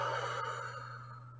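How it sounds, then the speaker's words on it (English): One slow, breathy exhale in a calming exercise for kids, soft and airy, fading gently over a low steady hum. "And you breathe out."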